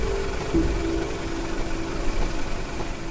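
A car engine idles in the Courage the Cowardly Dog horror video game, a steady low hum with a faint, even tonal drone that runs unchanged throughout and has no voices over it.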